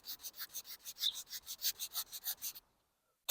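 A wood surface filled with black gap-filling CA super glue is sanded with the grain in about fifteen quick, even back-and-forth strokes, a close raspy rubbing that stops abruptly and leaves near silence.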